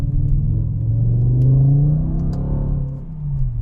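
Naturally aspirated V10 of a BMW M6 revving close by, a loud sustained rumble whose pitch swells upward and falls back across a few seconds, with no talk over it.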